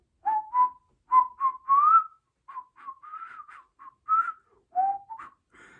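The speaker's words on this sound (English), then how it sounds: "I'm trying to whistle the intro." One person whistles the Ed, Edd n Eddy cartoon intro theme in short, bouncy, quiet phrases broken by brief pauses, with no other sound behind it.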